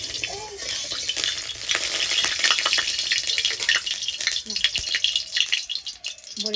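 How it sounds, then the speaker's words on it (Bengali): Bori lentil dumplings fry in hot oil in a wok, giving a steady close sizzle with scraping stirs and clinks throughout, while faint running water plays in the background. "আমি লাল লাল করে ভেজে নেব"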